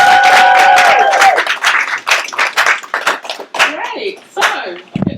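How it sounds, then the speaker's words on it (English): An audience claps together in a hall at a business anniversary celebration, with a loud burst that thins out into scattered claps while a voice talks over the start. "can we just give a big clap so everyone can hear?"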